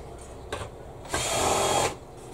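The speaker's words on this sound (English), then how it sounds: "Let me go to the old faithful Unibit." An Irwin Unibit step drill bit on a power drill bores into metal, a short whir and then a steady high grinding for under a second, close and fairly loud.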